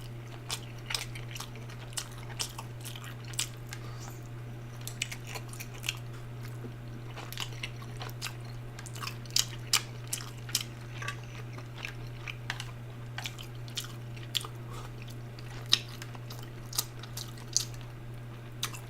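Chewing and biting through steamed dim sum dumplings during a close-miked mukbang meal, with soft wet squishes and scattered crisp bites at an irregular pace over a steady low hum, no talking.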